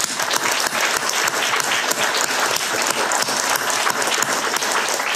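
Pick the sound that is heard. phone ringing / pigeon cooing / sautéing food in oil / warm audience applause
warm audience applause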